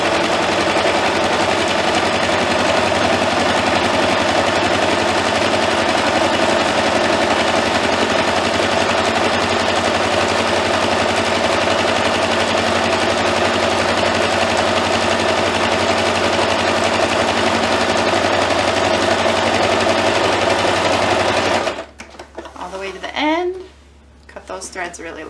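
Sewing machine running a long basting stitch on a Christmas tree skirt, a steady close, loud mechanical whir with no pause for over twenty seconds before stopping abruptly, leaving faint handling noise.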